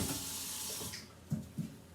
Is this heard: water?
yes